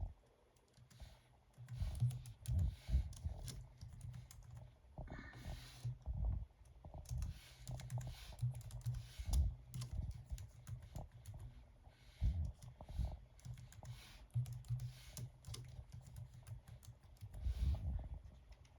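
Quiet bursts of typing on a computer keyboard as a new password is entered, irregular clusters of key clicks with short pauses between them, close and alone.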